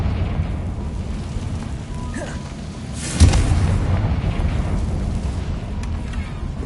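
A Confringo fire blast spell explodes in Hogwarts Legacy, a single dull boom rising out of a constant low rumbling background and then settling back into it.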